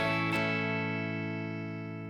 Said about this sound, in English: Then play a down-up strum across all 6 strings.